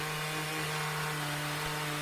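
A chainsaw cutting along a log to mill lumber slabs, a loud, steady droning engine whine with a strong continuous hum and no letup, heard alone.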